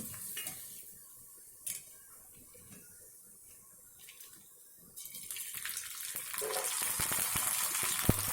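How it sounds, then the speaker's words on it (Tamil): Rice pappad (chilli vathal) frying in hot oil: faint kitchen clinks at first, then a bright, steady sizzle that swells up close and continues to the end, with no talking. "இது வந்து சில்லி வத்தலுங்க. பாருங்கள் எவ்வளோ அழகாக பொரிஞ்சு வருது."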